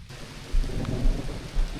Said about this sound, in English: That is thunder.